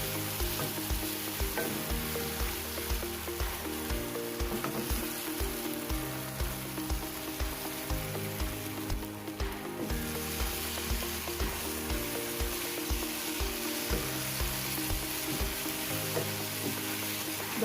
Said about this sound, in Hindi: दो मिनट हम फ्राई कर लेंगे इसे, ताकि सब्ज़ मिर्च और लहसुन भी फ्राई हो जाए।